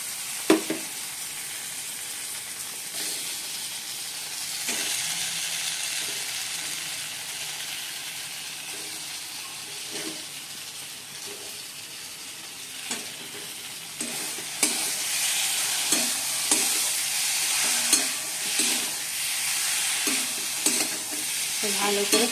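Potatoes frying and being stirred in a pan with cooked-down spice paste for a Bengali fish curry, a steady close sizzle broken by repeated scraping stirs that grow busier toward the end; no talking.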